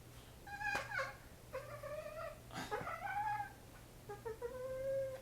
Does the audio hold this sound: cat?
yes